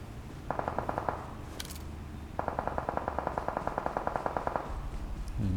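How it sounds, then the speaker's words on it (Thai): Automatic gunfire in the mobile battle royale game PUBG Mobile, two rapid bursts of repeated shots, the second long and sustained, moderately loud over a low game background. "ยิงกันข้างบนคนอินเดียด้วย คนอินเดียยิงคนไทยด้วย"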